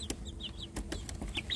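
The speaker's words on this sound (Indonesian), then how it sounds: "kotak pembesaran anak ayam kampung ini sudah penuh" Free-range village chicks crowd a full rearing box, giving faint, scattered high cheeps and soft clucks in quick succession.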